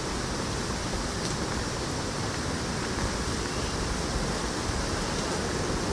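Steady, loud roar of rushing water filling the whole stretch at Hidlumane Falls close by, with no pauses or voices.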